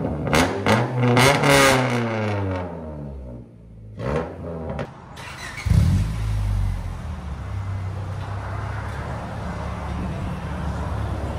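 A 1997 Honda Prelude with a 2.2L engine, headers and a Skunk2 Mega Power cat-back exhaust revs in a quick rising burst, then drops to a steady, rumbling idle with a brief surge partway through.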